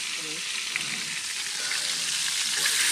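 Fresh tilapia frying in hot oil, a steady, dense sizzle with faint crackles that holds evenly throughout at close range, with no voices.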